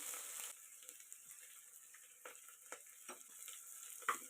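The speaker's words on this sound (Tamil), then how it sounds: "எண்ணெய் சூடானதும் கடுகு போட்டு தாளிச்சுக்கிறேன் இதுலேயே காஞ்ச மிளகா வெங்காயம் கருவேப்பிலை சேர்த்து தாளித்து விட்டுக்கிறேன்" Mustard seeds, dried red chillies, onion and curry leaves tempering in hot oil for a South Indian karamani kulambu, a soft, close crackling sizzle with a few light pops and stirring clicks, no talking.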